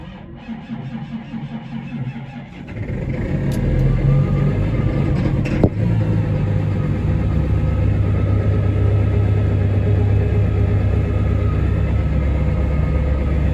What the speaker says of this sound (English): Usually it idles about 900 RPM, but when it's cold starting like it is this morning